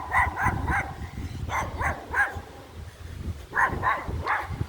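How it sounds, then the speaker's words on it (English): A small dog barks repeatedly outdoors during a summer walk, with sharp, closely spaced yaps in short bursts and pauses, loud and near against light background noise. "Apparently that dog's just like all bark."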